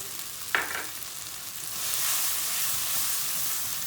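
Tomato paste and flour frying in a pan, beginning to catch on the bottom: a steady soft sizzle with one sharp clink early on, swelling into a louder, fuller hiss halfway through, with no voices.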